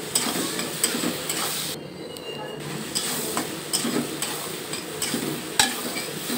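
Slit green chillies sizzle steadily in a hot pan while a utensil scrapes and clinks against it in repeated stirring strokes. A brief pause in the sizzle comes near the start.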